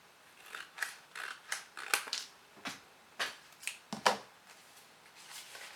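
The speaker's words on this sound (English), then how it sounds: "I might trim the edges a little bit" Scissors trim the edges of paper in a series of quiet, crisp snips at an irregular pace, about a dozen cuts close by with no talking.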